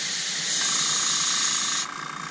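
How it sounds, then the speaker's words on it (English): An air compressor feeding a Tamiya Spray-Work airbrush hisses steadily and close, a continuous bright rush of air that holds level, then drops slightly near the end. "There goes the air compressor."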